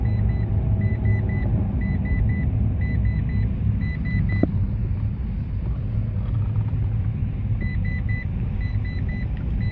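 A car's seatbelt warning beeper chirps in short repeated bursts of high beeps, pausing midway and then resuming, over the steady low rumble of the running engine inside the cabin.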